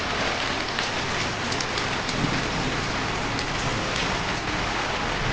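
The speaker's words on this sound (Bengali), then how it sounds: "চরম বৃষ্টি পড়ছে" Heavy rain pours down in a steady, dense roar, a continuous broadband wash of drops hitting surfaces, fairly loud and unbroken, with no voices.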